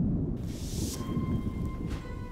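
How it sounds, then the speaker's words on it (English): A thunderstorm is easing off, with a low rumble of thunder under steady rain. Faint higher hiss and rustle sit above the rumble, heard briefly with no voices. "The storm is letting up."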